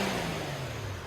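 A 2011 Infiniti FX35 with a 3.5L V6 on its stock exhaust runs with a low, smooth, fairly quiet engine rumble heard briefly and steadily.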